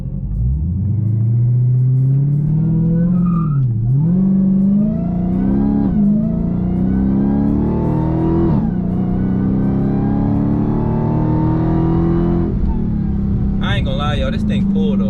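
A 2021 Dodge Charger SRT Hellcat Redeye Widebody with stock intake, heard from inside the cabin during a launch-control start: a loud, deep engine roar climbs in pitch, drops briefly at each gear shift, then climbs again.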